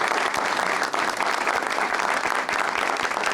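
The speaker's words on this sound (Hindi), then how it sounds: "दोनों के लिए भरपूर तालियां" A studio audience at a TV talk show gives a couple a full, loud round of applause. The clapping is dense and continuous and stays strong from start to finish.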